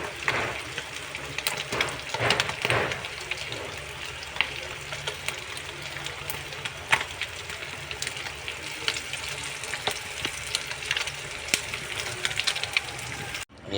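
Pork intestines fry in a pan with a busy, steady sizzle and crackle, and louder spatters pop out now and then, all close up and with no talk.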